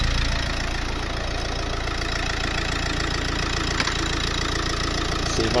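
A Nissan Qashqai engine with a boost fault idles steadily, a continuous close mechanical drone with a faint rattle and no clear change in pitch, heard alone without talking.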